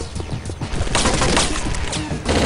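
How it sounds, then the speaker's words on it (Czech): Bursts of rapid gunfire in the video game Chaser crackle loudly and continuously, dense sharp shots layered over a rumbling game soundscape. "Když ta zbraň přes tu optiku střílí tak nešikovně."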